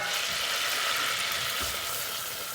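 Flour goes into sizzling butter in a pan for a white sauce, giving a steady, close frying hiss with faint stirring underneath.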